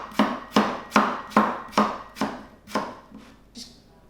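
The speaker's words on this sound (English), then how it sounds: "get a good chunk off it first, and then you're going nice fine slices" A knife slicing through green mango on a cutting board, nine crisp, evenly spaced chops close up, each with a short woody thud, the last few growing softer.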